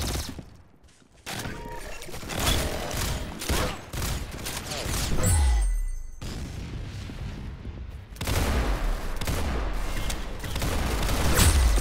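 Gunfire in a video game rattles in dense, continuous bursts, loud and crowded, with one brief lull near the middle before the shooting resumes.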